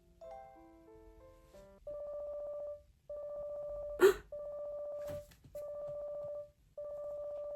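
A cell phone rings inside the Obey Me! mobile game, a synthetic electronic ringtone: a short melodic phrase followed by four repeated steady ring bursts, loud and alone, with a brief sneeze-like burst in between.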